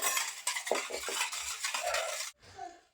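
A spoon stirs cake batter with lemon juice in a bowl for a sponge cake: steady, close wet scraping and swishing with rhythmic low knocks, stopping abruptly near the end before a brief quieter stir.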